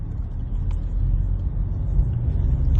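A steady low engine rumble from inside a moving Peugeot 508 on a test drive, continuous road noise with no voices.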